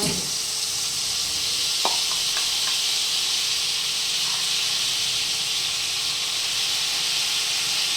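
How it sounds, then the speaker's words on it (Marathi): Spice masala sizzles in hot oil for a fenugreek bhaji, a loud, even hiss close by with a couple of faint taps near the start. "बघा आता मी तेलात हा मसाला टाकून देते"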